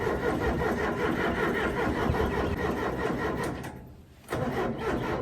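A Case diesel backhoe engine cranks over steadily in a cold start attempt, a loud continuous churning that briefly drops away near the end before resuming.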